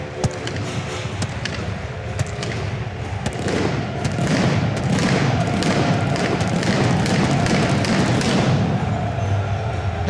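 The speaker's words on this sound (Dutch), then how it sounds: "vuurwerk." Fireworks go off inside Roda JC's football stadium in Kerkrade before the match against Ajax, a dense, continuous barrage of crackling bangs and pops over a steady roaring crowd.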